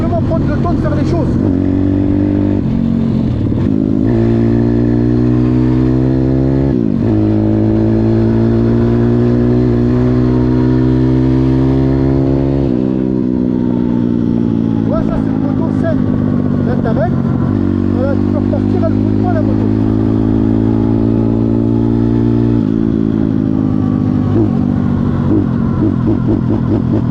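A Zongshen 180 motorcycle engine runs loud and close, revving up and settling back in repeated waves over nearly half a minute, its pitch climbing and falling with each throttle blip.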